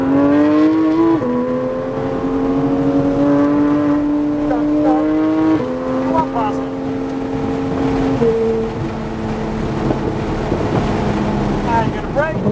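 A car engine hums steadily and climbs in pitch through gear changes as the car accelerates during a driving lesson, loud and close with wind rumble and some talk.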